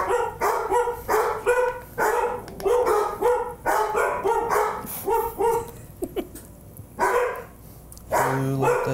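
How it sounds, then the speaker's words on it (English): Several dogs bark in loud, rapid bursts close by, with yips and whimpers mixed in and short pauses between volleys. "Who let the dogs out?"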